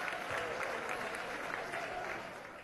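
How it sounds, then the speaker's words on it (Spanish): Steady applause from members of Venezuela's National Assembly for a deputy during a parliamentary session, a dense continuous patter that tapers slightly toward the end. "un aplauso para el diputado Diógenes"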